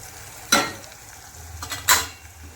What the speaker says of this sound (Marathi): आता मस्त मिक्स करून घेते आपलं.